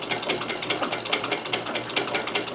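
A Necchi BU Nova sewing machine stitches a shirt cuff, its rapid, even mechanical clatter loud and close throughout the short stretch.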